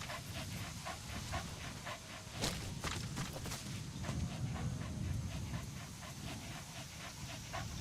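A dog panting in the video game Metal Gear Solid V: quick, rhythmic breaths repeating close up over a low rumbling game ambience.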